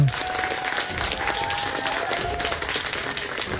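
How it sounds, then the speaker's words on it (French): Sustained applause from a small group of about ten women, young and older, gathered around Fiona at a woodland hunt gathering, steady dense clapping throughout without speech. "Les applaudissements fusent autour de Fiona."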